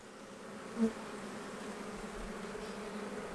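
Honeybees hum in an open hive holding capped brood, a steady close, low drone with one brief louder buzz near the start.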